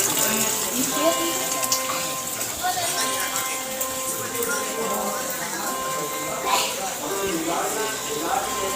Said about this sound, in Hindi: ये गोमुख बना हुआ है जहाँ से सोन नदी निकल रही है